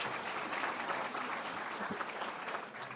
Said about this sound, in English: giving yourselves a round of applause for being here this morning